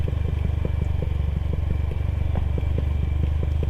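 A 150cc motorcycle riding in third gear along a mountain road, its engine running at a steady, close drone with rhythmic clattering pulses and faint road noise throughout.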